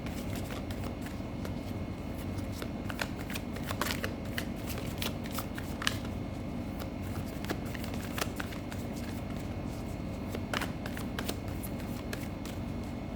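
Tarot cards riffle and shuffle steadily in a quiet room, a soft continuous papery rustle punctuated by sharper flicks and snaps of cards.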